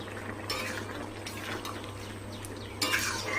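Poppy seed (posto) stirred in a pan on the stove, with faint scraping and soft sizzling, a few sharper utensil scrapes and a louder scrape near the end, quiet and close.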